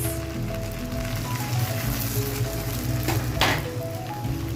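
Bay leaves, cinnamon and cardamom sizzle in hot oil with lightly fried onions for chickpea biryani, a continuous crackling hiss over a low steady hum, with a brief louder spatter near the end.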